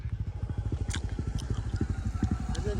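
A motorcycle rides past on a village road beside a river confluence, its engine putting out a loud, rapid, even pulsing throb close by throughout.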